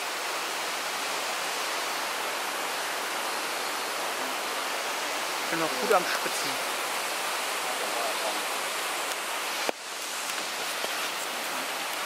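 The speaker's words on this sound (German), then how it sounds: "Krasser Wasserfall." Waimoku Falls in Haleakala National Park, a loud, constant rushing roar of falling water close by, with a voice briefly speaking over it midway.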